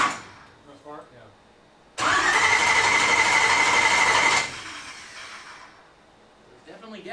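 A trophy truck engine cranks in a garage with the ignition coil top pulled: a single loud, near burst of starter and engine noise lasting about two and a half seconds, framed by quieter background sound and voices.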